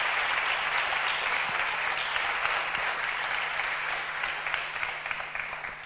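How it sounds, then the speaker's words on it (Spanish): Steady applause fills a literary event hall from an audience, a dense even wash of clapping that holds throughout and slowly eases at the close. "un fuerte aplauso para todos los que nos están siguiendo"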